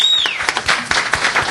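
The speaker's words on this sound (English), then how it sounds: "Let's have a nice round of applause for them." Audience applause at a restaurant event in downtown Fort Myers, Florida, honoring the chefs: short bursts of clapping with a few sharp claps over a whistle-like tone, close and loud.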